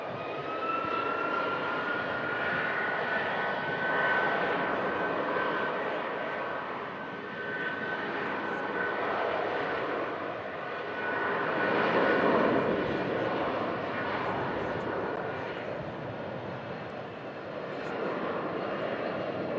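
An airliner climbs away on departure toward Mallorca, its steady broadband engine roar swelling and easing over about twenty seconds with a faint whine riding on top, no voices heard.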